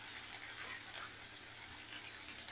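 Onion, garlic and ginger frying in a pan for a masala fish curry, a steady soft sizzle that stays even and fairly quiet throughout, with no talking.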